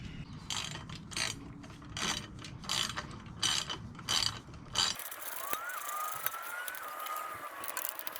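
Ratchet undoing three 8mm Allen key bolts from the exhaust bracket of a Yamaha SCR 950, a run of close, rhythmic clicking bursts that then gives way to a quieter mechanical whir.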